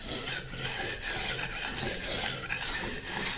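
A knife edge is drawn across a wet whetstone at a 20-degree angle, making a close, continuous rasping scrape in even back-and-forth strokes with no talking.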